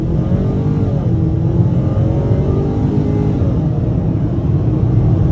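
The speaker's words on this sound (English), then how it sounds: "Looks like we have a chance to try an acceleration off the line." A 2022 Ford Maverick Lariat with the 2.0-litre turbo engine and all-wheel drive accelerates hard from a standstill, heard from inside the cab as a loud, steady engine roar that climbs in pitch. No one talks.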